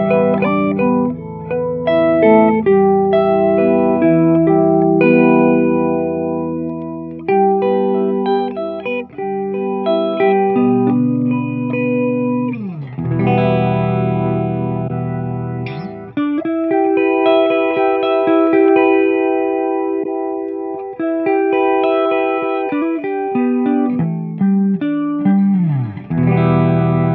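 Electric guitar played through a Boss MO-2 Multi-Overtone pedal, sustained chords and single notes with a thick layered shimmer, ringing continuously and loudly for the whole stretch, no voices.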